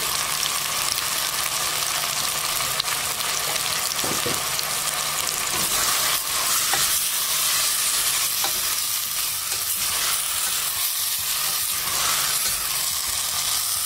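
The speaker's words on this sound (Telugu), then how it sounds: "కూరగాయల్ని కొద్దిగా రెండు నిమిషాలు వేగనివ్వండి" Cut vegetable pieces fry with salt in a pan for sambar, a loud, constant sizzle throughout with occasional scrapes of stirring, no voices.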